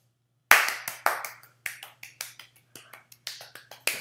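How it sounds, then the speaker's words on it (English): Sparse hand clapping from a small group indoors after an interview, sharp distinct claps in an uneven rhythm, fairly close and alone with no talking. "Round of applause for Elena."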